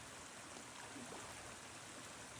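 A waterfall pours into a shallow pond at a bass hatchery, giving a steady, dense rushing and splashing wash that stays even throughout with no voices.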